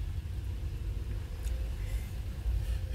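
Cars pass along a road in a low, continuous rumble of engines and tyres that swells slightly as vehicles go by, with no talking.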